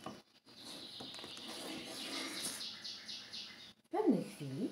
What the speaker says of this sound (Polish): W pewnej chwili rozległ się najcudowniejszy ptasi śpiew.